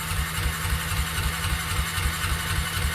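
A Farmall 400 tractor engine runs with the choke pulled, a loud, steady low rumble with a rhythmic pulsing throb that carries on without a break, no voices.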